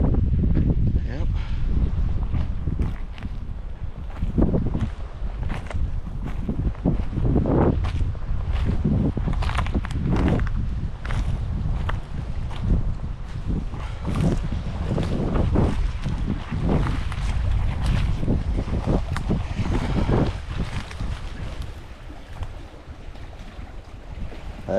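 Gusty wind buffets the microphone beside a lake in the Adirondacks, a constant rushing roar with repeated louder blasts, while a voice speaks intermittently underneath.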